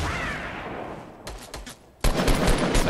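Gunfire in the Fortnite video game lands a headshot: a few sharp shots crack near 1.2–1.8 seconds over steady game noise, then a louder burst of rapid shots fills the final second.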